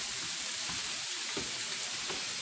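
Sausage patties, partly cooked with grill marks, sizzle quietly in a pan as a soft, even hiss with no voices.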